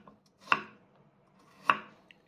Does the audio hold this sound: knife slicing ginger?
yes